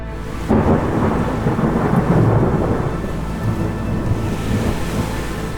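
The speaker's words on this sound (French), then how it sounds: "Ouais, il va falloir retourner dans la pluie, je crois. Ça tonne fort là." A thunderstorm over Lake Ohrid in North Macedonia: heavy, steady rain with loud, deep rolling thunder rumbling continuously close overhead, with no voices.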